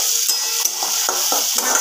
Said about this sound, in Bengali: বন্ধুরা, মশলাটা অনেকক্ষণ ধরে কষাচ্ছি।